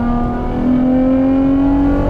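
A Ferrari Purosangue with a Novitec exhaust system drones loudly and steadily, the engine note rising slightly as it revs, with no voices.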